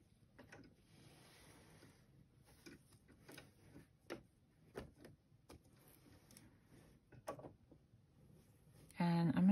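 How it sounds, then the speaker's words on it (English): A sewing machine runs a straight stitch in quiet, uneven bursts of light ticking and clicking, fairly faint and close, ending with a louder knock. "I think I'm going to try and just sew it. And I'm going to do a straight stitch just to get this down."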